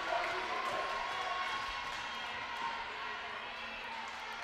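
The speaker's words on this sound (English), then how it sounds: "The cheer block just right on cue" A student cheer block roars in a gym during an NAIA college volleyball match, a dense, steady wash of crowd cheering that fades slightly toward the end.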